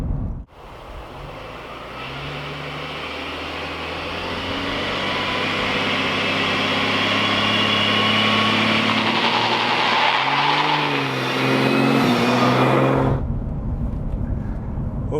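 Turbocharged Ford Barra engine held on the foot brake at light throttle, a loud steady rising drone as boost builds, then an abrupt cut near the end.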